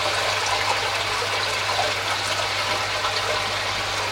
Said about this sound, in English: I have a slight leak on the joint down there, so I'll just put a tub under it for now